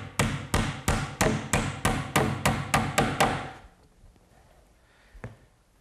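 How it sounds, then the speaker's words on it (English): Hammer drives 6-penny finish nails into an oak vanity: about eleven sharp, evenly spaced blows, close and loud, then quiet with one lighter knock near the end. "I'll just secure that with some finish nails, 6-penny finish nails"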